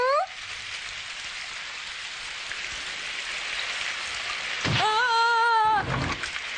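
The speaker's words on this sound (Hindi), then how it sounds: "बारिश हो रही है" Steady rain pours down in an animated cartoon scene, a dense even hiss that holds throughout, with a short wavering high-pitched tone rising briefly near the end.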